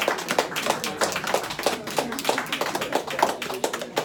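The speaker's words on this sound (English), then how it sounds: "People who brought people, give you guys yourselves a round of applause." A modest audience at a live event gives a round of applause, producing uneven, fairly close clapping with distinct individual hand claps audible throughout.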